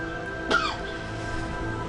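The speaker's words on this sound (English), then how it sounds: "Excuse the husband, coughing in the background." A single short cough in the background, brief and moderately loud over a steady low hum.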